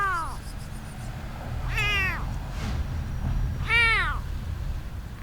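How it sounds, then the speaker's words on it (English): A sick kitten with infected eyes, found in a fruit crate, meows three times, high and plaintive, with pauses between cries over a low background rumble. "When I found this kitten, it was lying helplessly inside a fruit crate, meowing for help."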